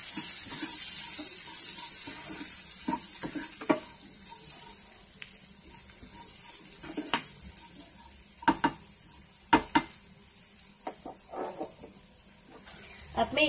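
Butter corn masala being stirred in a pan, a soft sizzling hiss under a run of irregular spoon scrapes and clinks that grow busier toward the end.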